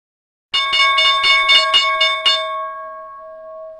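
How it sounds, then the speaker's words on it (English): A stock market opening bell rings in a rapid series of about seven loud metallic strikes, then its tone hangs and slowly fades away alone. "Let's see how the opening bell turns out."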